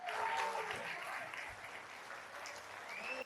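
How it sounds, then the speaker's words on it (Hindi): An audience at a Hindi-Urdu poetry gathering applauds warmly to welcome a poet, a full sustained burst of clapping that swells at the start and continues steadily, with a faint voice underneath. "जोरदार तालियों के साथ इस्तकबाल।"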